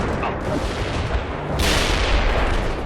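An artillery strike fires in the war video game World in Conflict: a rumbling barrage with a sharp loud boom about halfway through, over a continuous roar of battle noise.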